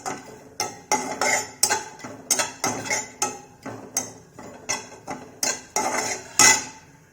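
Grated coconut being dry-roasted and stirred in a pan, a steady series of about a dozen sharp metallic spatula scrapes and clinks against the pan, evenly paced and close.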